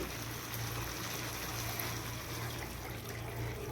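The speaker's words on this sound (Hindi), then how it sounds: "अब हम इसमें 2 से 3 कप पानी डालेंगे।" Water streams steadily into a pan of Schezwan chutney, giving a soft, even pouring rush at moderate volume with a low background hum.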